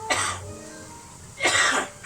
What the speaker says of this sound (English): So I've got a cough there.